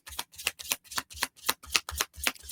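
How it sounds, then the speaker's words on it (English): A deck of cards riffled and shuffled in quick repeated bursts, about ten crisp rhythmic flutters close to the mic, each a short papery rush with brief gaps between, no talking over it. "I'm going to shuffle."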